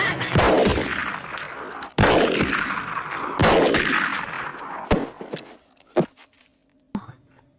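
Gunshots from the 1992 film El Mariachi ring out in a series of sharp, booming blasts with long decaying echoes, followed by a few quieter, more spaced cracks.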